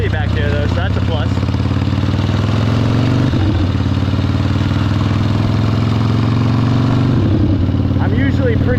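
A 1972 Harley-Davidson XLCH Sportster rumbles loud and close under way with a passenger aboard, its deep, uneven V-twin throb steady throughout with brief shifts in pitch as it changes speed.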